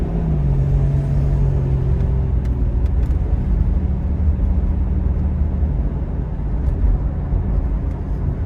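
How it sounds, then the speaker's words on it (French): Cars accelerating on a road at the Norisring circuit in Nuremberg, a steady loud engine rumble with a rising tone early on, continuous traffic noise without talk. "Les voitures se rélancent à nouveau sur cette voie."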